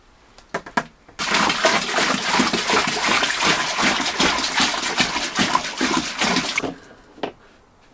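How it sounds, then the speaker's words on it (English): Cold water gushes into a home-brew beer fermenter to top up a hopped copper-style wort. A few small clicks come first, then a loud, continuous splashing pour for about five seconds, which stops abruptly. "I'll go and top this up with cold water."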